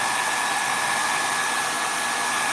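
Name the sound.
small travel hairdryer drying paint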